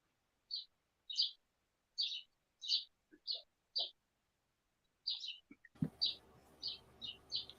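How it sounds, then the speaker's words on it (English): Several birds chirp in short, bright bursts spaced through the background, with a low rumble and hiss entering near the end while the chirping continues. "Who's beautiful birds in the background?"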